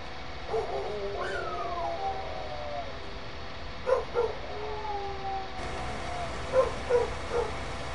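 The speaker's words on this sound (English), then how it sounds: "If anyone could hear that, that's my dog." A dog whimpers and yips in a rural setting near a cultivating tractor, with several short bursts of whining, rising-and-falling cries spaced across the stretch, fairly faint against a steady background hum.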